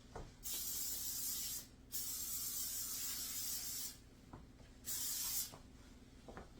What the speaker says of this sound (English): I am going to spray the sides and the bottom.